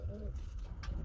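Pigeons coo briefly at close range in a loft of high-quality breeds, including Bombay Danish pigeons, with a soft low coo and some background noise.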